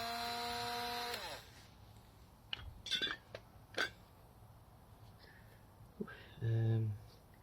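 Short whirring bursts from a power drill during a motorcycle front brake service, one at the start and one near the end, with small knocks and clicks between.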